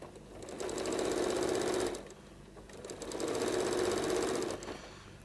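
A sewing machine stitching quilt binding close to the edge runs in two steady bursts of rapid mechanical whirring, with a short pause between them and no talk.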